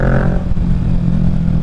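A 2023 Kawasaki Ninja 650 motorcycle fitted with a Yoshimura Alpha exhaust rumbles steadily at close range, a deep continuous engine note with a brief higher whine at the start.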